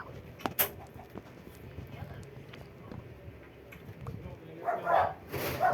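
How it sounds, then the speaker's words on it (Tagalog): Dogs bark outdoors during wood gathering in the countryside, several short yelps scattered across the clip, fairly faint and distant against background noise. "yung mga aso po kasi nagkakahulan"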